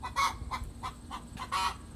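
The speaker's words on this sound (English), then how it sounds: "That is a chicken laying an egg." A hen clucking in a backyard garden, a run of short repeated clucks with a louder squawk near the start and another toward the end, fairly close over low background rumble.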